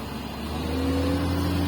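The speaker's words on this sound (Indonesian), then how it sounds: "Saka lihat traktor teman-teman, eskavator teman-teman." A Komatsu PC20 mini excavator's diesel engine runs nearby with a steady low hum and droning tones that rise slightly as it works, with no one talking.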